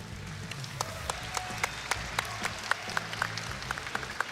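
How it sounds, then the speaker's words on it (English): An audience applauds steadily at the Summoners War World Finals esports event, scattered distinct claps popping out of the crowd's clapping, with a low background hum and a faint tone underneath. "We once again send our congratulations and applause to the winning player, Pooh."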